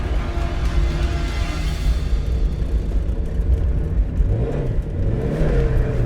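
A stock Mazda MX-5 Miata NA drifting, its engine revving loudly and steadily throughout with rising and falling pitch sweeps near the end, a continuous close rumble with tire and wind noise.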